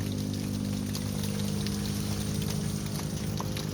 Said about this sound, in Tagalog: pampagulo lang yung ulan na to mainit naman kasi gusto lang talaga niyang umulan